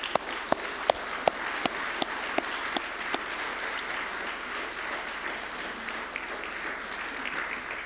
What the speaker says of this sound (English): I'd like us to give you a round of applause